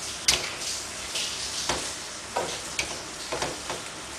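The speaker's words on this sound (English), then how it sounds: "we're going to let this simmer off" Sauce simmering in a pan, soft bubbling and sizzle with scattered small pops and clicks at an irregular pace, close and moderately quiet.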